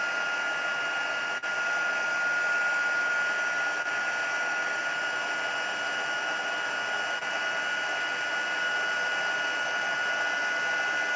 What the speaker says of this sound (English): heat tool here.